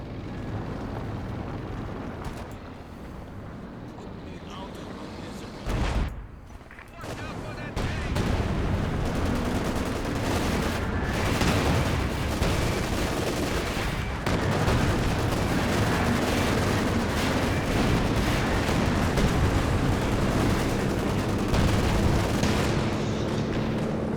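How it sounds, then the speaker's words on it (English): A dense, continuous rifle barrage roars in the Company of Heroes 2 battle, sustained rumbling gunfire and blasts filling the soundscape with only a brief dip partway through. "Must be a nasty rifle barrage."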